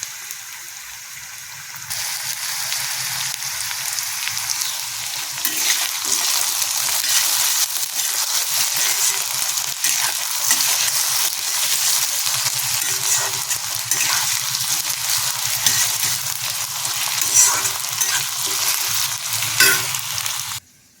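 Potatoes and a bay leaf fry in hot oil for ghugni, a steady broad sizzle that holds close and even for about twenty seconds, with occasional stirring scrapes and no talk.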